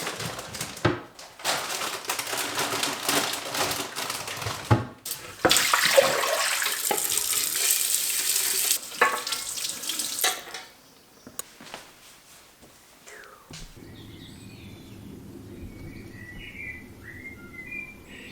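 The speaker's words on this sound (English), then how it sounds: "the next super exciting activity is doing the washing up and catching up on the washing up from the night before" Tap water runs steadily into a sink while dishes are washed, splashing loudly for about ten seconds before the water stops and birds chirp outside.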